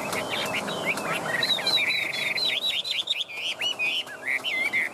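A caged hwamei songbird, a Vietnamese tam hoàng bird, singing loud, varied whistled phrases and trills up close, with a faint rattle from the cage in the background.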